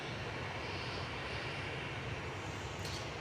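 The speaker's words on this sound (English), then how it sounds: "next to land is Finnair from Helsinki" A Finnair Embraer E190 arriving from Helsinki comes in to land at Manchester Airport, its steady broadband jet roar filling the whole stretch at moderate loudness with no voices over it.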